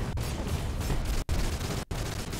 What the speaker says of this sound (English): Every time I shoot the love gun, it just sends me to the side.